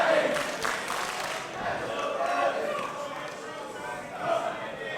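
A wrestling crowd jeers Travis Banks during a WCPW match against Doug Williams, a sustained wash of shouting voices and boos swelling and dipping with no break.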